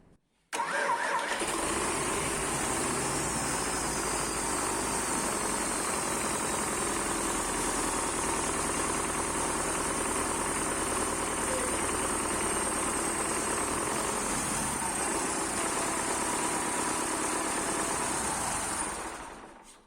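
SMD-22 diesel engine running after a long repair, starting abruptly and then holding a loud, steady, vibrating idle close by for the whole stretch before cutting off at the end.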